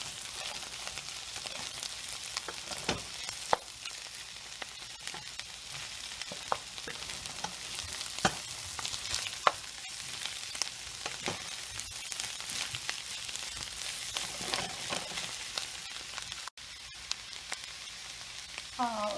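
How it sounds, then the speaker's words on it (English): Spinach and spring onions fry in olive oil in a pan, a steady soft sizzle with scattered clicks and scrapes as they are stirred, continuous and fairly quiet throughout. "I am now going to put in the spinach and the spring onions and stir that well."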